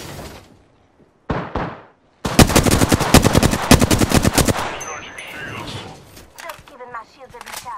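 Gunfire in the Apex Legends video game: a loud, rapid automatic burst of shots follows two short sharp blasts, then fades into scattered game effects and a voice line.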